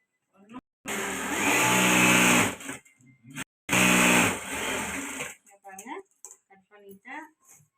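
A sewing machine stitching a bag runs in two loud, sustained bursts of whirring, each lasting about two seconds, separated by brief stops, with scattered clicks and a few short sounds afterward.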